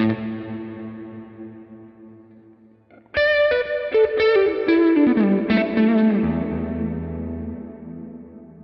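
NUX Trident guitar multi-effects pedal with a guitar chord ringing out through spring reverb and fading, then a fresh run of strummed notes through plate reverb, loud and washy with long shimmering decay.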